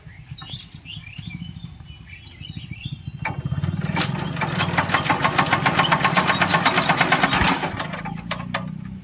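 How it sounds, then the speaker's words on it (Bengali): A Chinese-model engine that has run low on engine oil cranks and catches, then runs at a steady rumbling idle, with bird chirps audible in the background at the start. "ইঞ্জিনটা আগে স্টার্ট দিয়ে নিই"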